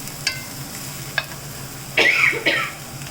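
A spoon stirs onions frying in a pan, a couple of sharp taps followed by a loud, close scraping sweep through the sizzling pieces.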